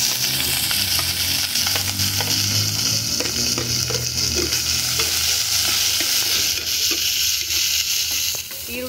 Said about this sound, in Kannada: ಹಸಿಮೆಣಸಿನ್ಕಾಯಿ ಹಾಕಿ ಒಗ್ಗರಣೆ ಮಾಡ್ಕೊಳ್ಳೋಣ.